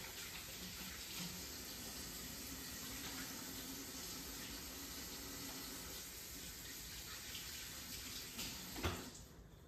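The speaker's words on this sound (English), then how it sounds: "Let me wash my hands." A kitchen tap runs steadily for hand washing, a faint continuous hiss of water into the sink with a brief splash near the end and no talking.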